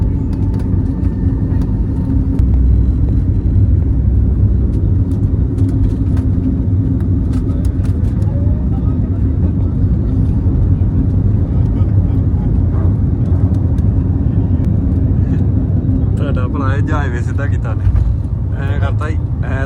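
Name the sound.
airplane landing, heard from inside the cabin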